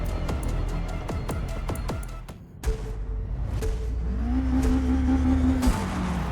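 Engine of a 1989 Toyota MR2 C-Class race car in Forza Motorsport multiplayer, revving hard in rapid gear-change sweeps at the race start, then a brief drop and a steady high drone as it accelerates among other cars.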